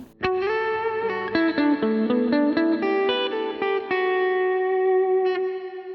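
Electric guitar played through a Strymon BigSky reverb pedal with modulation: a struck chord blooms into a wash of sustained notes, then a short melodic line rings out, shimmering and lingering in a long reverberant tail.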